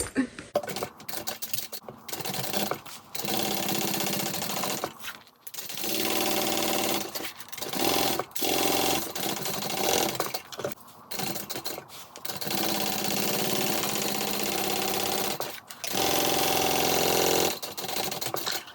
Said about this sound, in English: top stitch through the bag and just pull it out of our way as we feed it through